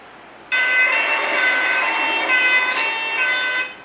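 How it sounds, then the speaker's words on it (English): An ambulance siren sounds loud and close, starting abruptly and holding a steady, harmonic wail for about three seconds before cutting off. "A siren like from who? An ambulance or something, right."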